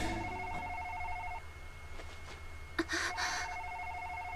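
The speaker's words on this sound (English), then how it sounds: "And then the phone rings." A telephone rings in the video game Policenauts, with two repeated electronic ring bursts, one at the start and one near the end, over a quiet background hum.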